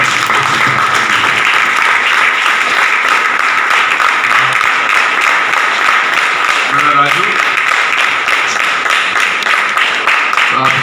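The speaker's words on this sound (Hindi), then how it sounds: "हम लोग जोरदार तालियां बजाएंगे।" Loud, steady applause from a gathered crowd marking a birthday, sustained evenly throughout with no break, and voices faintly mixed in.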